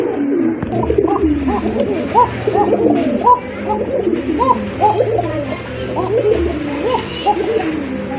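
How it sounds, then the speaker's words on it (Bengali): A pair of Koka pigeons coo repeatedly in soft, rolling calls, several birds overlapping close by with a steady low hum in the background. "এক জোড়া কোকা কবুতর, দেখলেনই তো আপনারা কত সুন্দর ডাকে"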